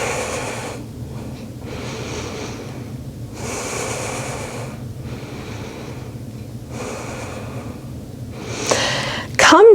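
Deep, slow breaths during a beginner vinyasa yoga session in a kneeling position, several long audible inhales and exhales in a steady rhythm, close and clear, ending with a brief louder sound.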